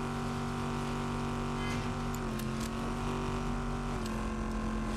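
A car engine in the Fortnite video game drones steadily at close range, a loud continuous motor hum with slight shifts in pitch and no speech over it.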